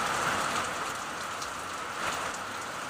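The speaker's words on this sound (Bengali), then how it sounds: "দেখো কি বৃষ্টি হচ্ছে, অঝরে বৃষ্টি হচ্ছে।" Heavy rain pours steadily outside a window on a cloudy afternoon, a dense continuous hiss of drops hitting surfaces with no voices.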